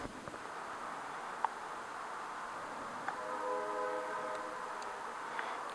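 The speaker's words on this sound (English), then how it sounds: "train." A train passes in the distance, a faint low rumble with a soft horn-like tone rising partway through and a few light clicks.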